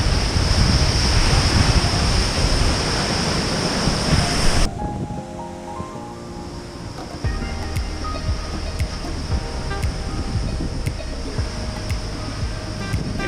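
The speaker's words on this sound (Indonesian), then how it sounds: "Inilah dia air terjun Binanga Bolon" Steady roaring rush of the Binanga Bolon waterfall in Simalungun forest, loud and continuous, with a wind-buffeted first stretch before the sound drops slightly and settles into a constant torrent.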